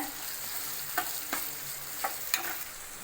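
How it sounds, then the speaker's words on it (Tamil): A pan of chopped tomato and curry leaves, part of a wheat rava upma, fries with a steady soft sizzle while a spoon stirs it, scraping and clinking against the pan a few times. No one speaks. "ஒரு தக்காளியை சின்ன சின்னதாக கட் பண்ணி வச்சுருக்கேன் அதையும் சேர்த்துக்கிறேன் அதையும் நல்லா கலந்து விட்டுருங்க"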